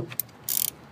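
A ratchet wrench with a 10 mm socket clicks through two quick bursts of close pawl ratcheting while working on a 2003 Honda Accord wiper motor.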